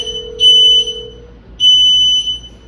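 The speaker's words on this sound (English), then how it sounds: "the joystick starts beeping at me, that means I am probably in neutral" A Golden Technologies Cricket GP302 power chair joystick beeps twice: two steady, piercing high tones, each about half a second long, separated by a pause, loud and close with no speech.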